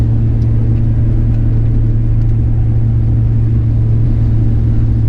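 Inside a Chevy Bolt EV towing a trailer on a rough road, a constant loud low rumble of road and tire noise fills the cabin without pause.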